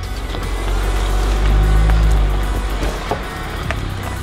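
A 2020 Land Rover Defender crawling off-road, with a deep, steady engine rumble, scattered knocks and crunches from the terrain, and a close, full, continuous drone.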